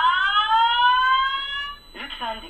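Fire alarm of an aerosol fire suppression system sounding a loud, steady electronic tone with rising harmonic sweeps for nearly two seconds, then a voice announcement starts.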